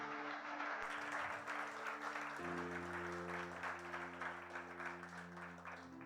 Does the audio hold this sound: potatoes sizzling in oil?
no